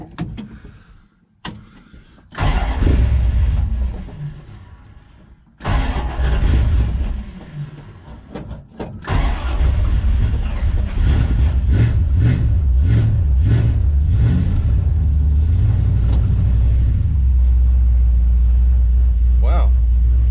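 A 1970 Plymouth Duster with a 340 V8 cranks and fires up, then settles into a loud, rumbling idle with a few revs, under occasional speech close by.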